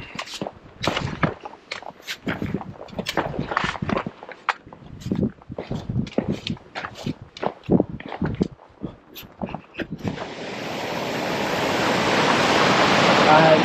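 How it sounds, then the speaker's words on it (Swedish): A waterfall on a stony, muddy trek in Svalbard in poor visibility rises to a steady broadband roar in the last few seconds, after a long run of crunching, scraping footsteps and handling noise. "Det här är fint vattenfall."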